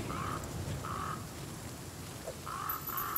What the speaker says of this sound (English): I still hear another crow somewhere.